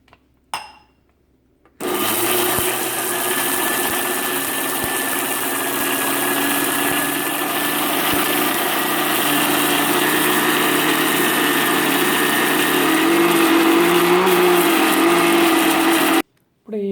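A kitchen mixer grinder runs continuously, grinding a thick red gram chutney with little water, a loud, steady whirring drone that starts abruptly and cuts off just as abruptly.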